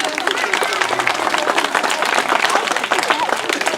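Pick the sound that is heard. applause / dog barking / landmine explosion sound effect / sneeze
applause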